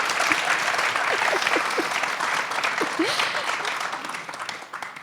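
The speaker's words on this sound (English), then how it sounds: "I think Josh deserves a round of applause for sharing that." Audience applause at a live panel event, a dense wash of clapping from a sizeable crowd with scattered voices and whoops, fading gradually toward the end.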